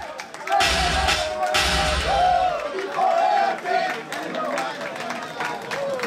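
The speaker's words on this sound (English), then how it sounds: "Give Revlon a round of applause" An audience cheers and claps at a vogue ball, loud bursts of crowd noise and slapping claps under a host's amplified voice talking throughout.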